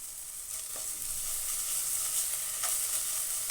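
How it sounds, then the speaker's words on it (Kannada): Green chili paste fries in a pan while making momos, giving a continuous close sizzle with occasional light scraping taps from stirring. "ಹಸಿಮೆಣಸಿನ್ಕಾಯಿ ಪೇಸ್ಟ್ ಹಾಕ್ತಾಯಿದ್ದೀನಿ,"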